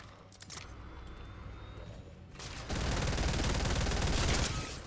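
Gunfire from a gun in a video game, a steady rapid stream of shots that grows louder and denser partway through, continuing as sustained automatic fire close up.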